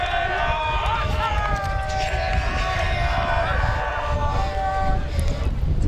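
Woodbridge fans heckle the pitcher at a varsity high school baseball game against Colonia, with overlapping drawn-out shouts and calls from the stands over steady outdoor wind noise.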